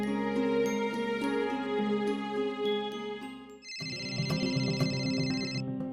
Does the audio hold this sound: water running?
no